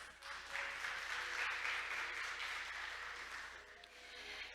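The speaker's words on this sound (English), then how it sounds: "Let's give Mr. Henane another big round of applause." Audience applause at a maritime conference, a steady wash of clapping from a seated crowd that holds evenly for several seconds before tapering slightly.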